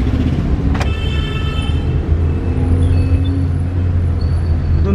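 A car drives along a road during a driving lesson, a steady low engine and road rumble throughout with a short sharp click near the start and faint whine above.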